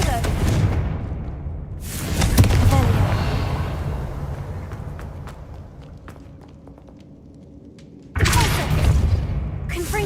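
Loud booming blasts from the Confringo fire spell in Hogwarts Legacy. One burst erupts, fades through crackling debris, then a second blast hits near the end. Talk is heard over the effects.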